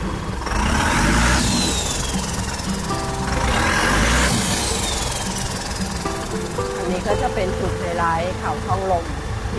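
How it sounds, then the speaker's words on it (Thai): A loud, rough long-tail boat engine drones steadily throughout, rising and falling slightly, with people talking over it. "เครื่องยนต์มันสั่น ดูเครื่องยนต์เขาซะก่อน"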